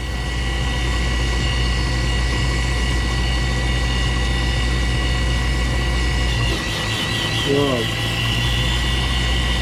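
A DIY toolpost grinding spindle runs on a Myford lathe turning in reverse, a steady loud motor whine and hum filling the whole stretch, with a brief voice and a short grinding burst near the end.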